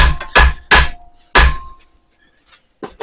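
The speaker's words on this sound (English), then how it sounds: "I'm actually going to ping that over with a hammer" Several sharp metallic taps from a hammer striking 3/32 metal in quick succession, close and loud, then fade into quiet with a faint knock at the end.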